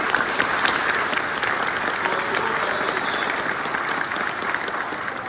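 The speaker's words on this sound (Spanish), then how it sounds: "pido un aplauso para toda la comunidad campesina de Acoria" Loud, steady applause from the crowd at the patronal festival of Señor de Acoria in Huancavelica, Peru, honouring the Acoria farming community, dense and unbroken throughout.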